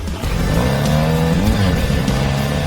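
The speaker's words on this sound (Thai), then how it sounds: "ฉันก็กลับมาแล้วพร้อมกับมอเตอร์ไซค์ มันคือตัวเลือกที่เร็วแล้วก็ดีที่สุดเลย" Motorcycle engine in a hide-and-seek video game, revving loudly and continuously with a rising and falling drone and some tire noise, no talking.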